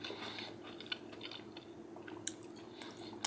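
Someone chews a freeze-dried tomato, ham and cheese sandwich, making soft, close, intermittent crunching bites over a quiet background for about three seconds, with no talking.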